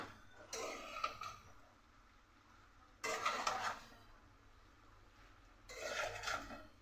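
Greens, malabar spinach with salt and a little sugar, are stirred in a pan in three separate bursts of scraping and clattering, each lasting a second or two, with quiet pauses in between.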